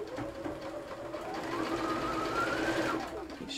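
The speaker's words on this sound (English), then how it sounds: "There we go, and sew that one down." A sewing machine runs in one continuous burst as it stitches quilt block pieces together, a close, steady whir that rises slightly in pitch before stopping.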